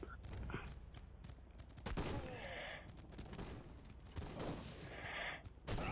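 Sniper rifle and other gunfire in a multiplayer shooter video game crack out in rapid repeated shots and dense bursts across the whole stretch, loud and close, with some player talk mixed in.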